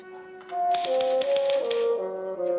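Typewriter keys clacking in a quick irregular run of sharp taps over a sustained tonal music backdrop, close and clear with no talk.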